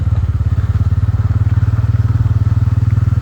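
A motorcycle engine runs loud and close on a street, its rapid, even throbbing pulses continuing throughout without a break.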